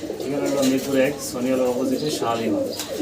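Pigeons kept in farm cages coo nearby in low, overlapping rolling calls that swell and fade continuously throughout.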